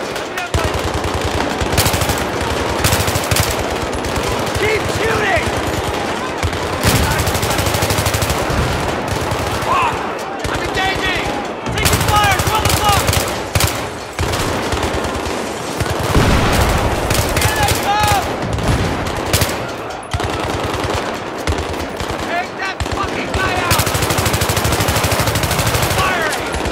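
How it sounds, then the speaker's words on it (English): Relentless machine gun fire from the Battlefield 3 video game on Xbox 360, loud rapid bursts and fusillades with brief gaps, while soldiers' voices shout beneath the shooting. "Keep shooting!"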